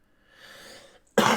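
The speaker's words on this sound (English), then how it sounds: "Have you noticed that my coughs are actually getting, like, stronger?" A single person's cough: a soft breathy throat sound followed by one sharp, loud, close cough burst.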